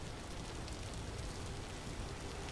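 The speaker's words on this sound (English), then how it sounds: "Unfortunately, it is raining." Rain in the video game Path of Exile II, a faint, steady wash of patter with no breaks and no voices.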